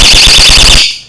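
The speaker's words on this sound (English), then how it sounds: "if somebody takes your device, it pulls out the little cable here, and it has a deafening alarm here" A dollar store anti-theft security alarm set off by pulling its cable, a deafening shrill warbling tone with a pulsing low buzz, very loud and close, cutting off abruptly near the end.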